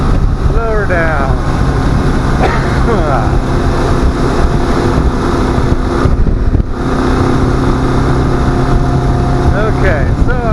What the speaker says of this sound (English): I'm hearing lots of wind buffeting.